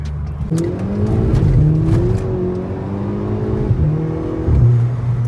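A Volkswagen Golf 6 GTI, Stage 1 tuned on ethanol with 270 horsepower, revs and accelerates up through the gears, rising whine with shifts, heard from inside the car, loud and continuous.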